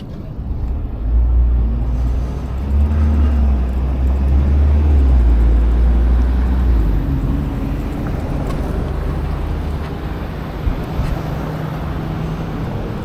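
A truck's wheels spin on a snowy road during a winter commute, a loud low engine roar with rising and falling revving strain that swells for several seconds and then eases, steady road noise underneath.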